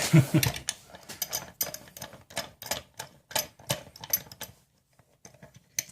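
A lock is clamped into a bench vise, producing a quick series of close, crisp metallic clicks and ratcheting taps that stop near the end.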